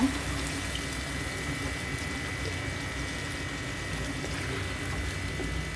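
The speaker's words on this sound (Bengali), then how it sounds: "এখন আমি পানি ঢেলে দিব" Water streams steadily from a mug into a cooking pot of sautéed chicken curry, a soft continuous pour heard close up without any talking.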